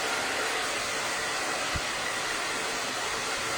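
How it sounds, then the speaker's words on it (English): Hair dryer blowing hair flat on a mannequin head, a steady loud broadband rushing of air throughout with a brief low thump partway through. "you really want to blow dry it flat"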